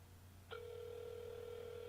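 A steady electronic telephone tone begins abruptly about midway and holds evenly to the end, fairly clear against a low hum.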